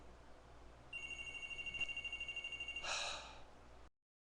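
A phone rings with a shrill, warbling electronic trill lasting a few seconds, followed by a brief breathy burst, against a quiet background.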